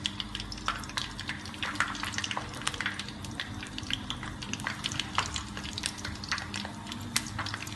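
Chicken pakora pieces frying in oil, a soft continuous sizzle with scattered sharp pops and crackles, faint and close with no talking.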